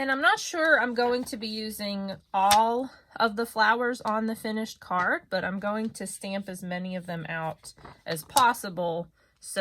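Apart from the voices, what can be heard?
None of the usual background noises is heard.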